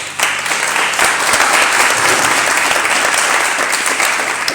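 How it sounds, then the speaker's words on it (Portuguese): A congregation at a church service applauds loudly and continuously, a dense wash of clapping from many hands that holds steady for several seconds. "Você pode aplaudir o Senhor?"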